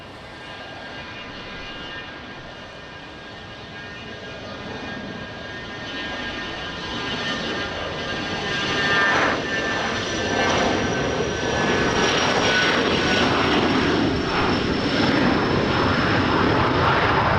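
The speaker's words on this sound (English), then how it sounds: "Runway 20 clear for takeoff, Big 50. Portuguese Air Force Falcon 50." A Portuguese Air Force Falcon 50 jet takes off from runway 20 at Lisbon Airport, a broad, steady engine roar that builds gradually and holds loud and close throughout.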